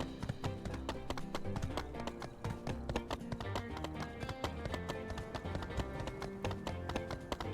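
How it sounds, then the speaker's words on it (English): Horse hooves clip-clop steadily in the My Time at Sandrock video game, a brisk, even rhythm of close, crisp taps running throughout over soft game music, with no talking. "Horse? There you are."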